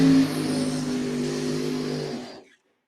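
A funny car drag racing engine roars loudly and steadily at a dragway, with strong low harmonics, then cuts off abruptly and falls silent near the end.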